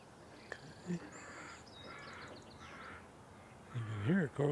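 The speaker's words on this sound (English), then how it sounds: "You can hear a crow calling" A few harsh caws from a crow ring out at a moderate distance in a marsh, scattered among other faint bird calls over quiet outdoor background.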